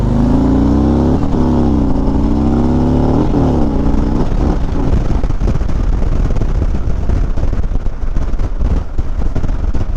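A motorbike accelerates hard from a turning lane, its engine revving up loud and close for several seconds before giving way to dense rumbling wind and road noise.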